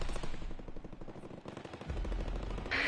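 Rapid bursts of automatic gunfire in the video game Not For Broadcast, dense and rattling, continuing through with a heavier thump of impacts toward the end.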